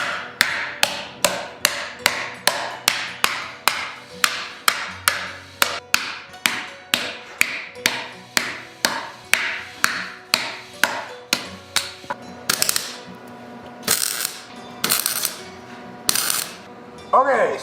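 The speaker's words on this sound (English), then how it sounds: "I'm just going to be roughly hammering these pieces, then welding them together." Metal pieces for a plague doctor mask being roughly hammered, a close, steady run of sharp ringing blows at an even rhythm, then a few heavier, scattered strikes toward the end.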